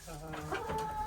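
Chickens clucking as new birds join a backyard flock, a few short, close clucks and murmurs over about a second, with faint background noise.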